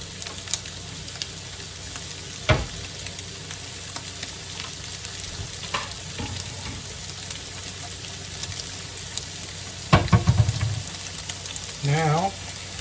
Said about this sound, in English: Now, we let her cook until she's ready to flip.